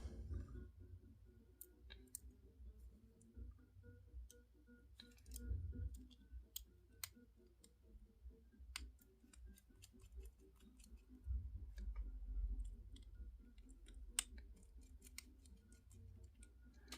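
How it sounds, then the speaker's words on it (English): Small screws being fitted into a 2-track mechanical pivot slider pocketknife, giving sparse, sharp metallic clicks and ticks scattered at irregular intervals over a quiet, low background. "And put the other two screws in now."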